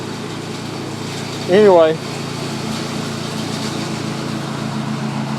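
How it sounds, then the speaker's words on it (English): A lawn mower runs nearby as a steady, even drone through the whole stretch, with someone speaking briefly over it. "my wife's mowing, so"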